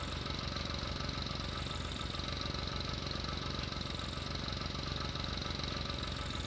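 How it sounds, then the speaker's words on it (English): Noisy custom engine of a work machine in Farming Simulator 19, a steady droning idle with a knocking, mid-pitched rumble that holds constant and fairly loud throughout, with no talking over it. "It's actually a fairly noisy machine, but it's really nice, like custom engines sounds."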